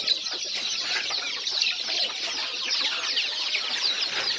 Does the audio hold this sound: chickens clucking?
yes